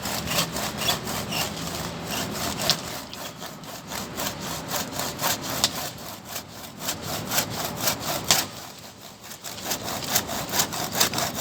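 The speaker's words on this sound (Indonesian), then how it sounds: "Dengan memotong pakai gergaji, goncangannya tidak terlalu besar dan akar-akar juga aman." A hand saw cuts through mango tree roots for grafting in steady, close back-and-forth strokes. The rasping grind repeats evenly and stands alone with no voices.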